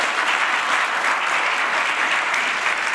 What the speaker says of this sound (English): can we just give a round of applause for Anthony and Goldenhour?